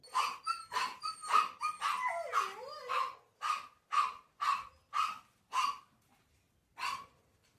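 Dogs bark in a steady series of sharp, close barks, some bunched and some spaced apart, with a brief whining, yelping stretch partway through and a short pause near the end.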